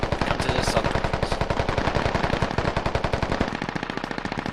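Sustained automatic gunfire in the military video game Squad, a loud, rapid, steady stream of shots continuing for several seconds with a brief change in tone near the end.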